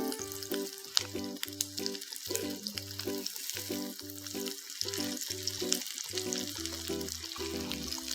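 Egg rice vada fry in hot oil with a steady crackling sizzle close by, punctuated by sharp pops and clinks.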